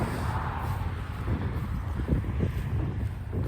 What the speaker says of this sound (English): you can hear the wind.